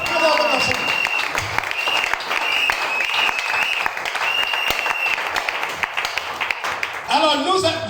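A church congregation applauding during a Sunday service, sustained dense clapping throughout with cheering voices and a high whistle-like tone, rising again near the end.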